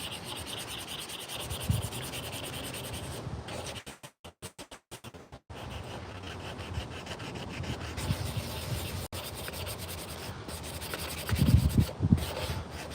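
Sandpaper rubbing over a hand-carved wooden teaspoon with a natural curve, a steady close scratchy scrubbing that runs for long stretches, pausing briefly midway and swelling louder near the end.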